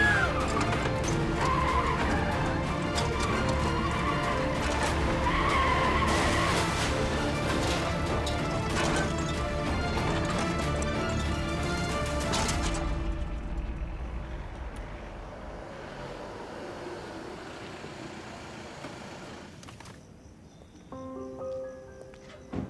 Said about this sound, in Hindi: ये गाड़ी किस तरह चला रहे हो?